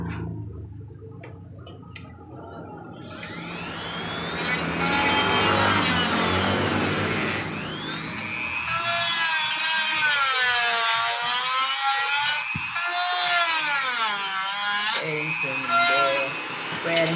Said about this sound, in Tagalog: Okay, gagamitan natin ng drill mill.